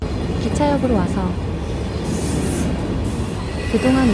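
A train at a railway station rumbles loudly with a steady roar, while squealing wheels ring out near the start and again at the end.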